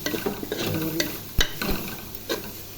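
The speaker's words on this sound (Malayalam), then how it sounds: "കേബേജ് ഇടാം ഇട്ട് നന്നായി ഇളക്കി" Cabbage and mixed vegetables stirred in a pan while cooking macaroni: close scraping and tossing strokes with a light sizzle, a few sharper knocks of the spoon against the pan, no talking.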